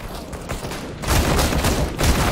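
Rapid automatic fire from a Negev machine gun in the shooter game CS:GO, a dense rattling burst that grows louder and fuller partway through, continuous and close.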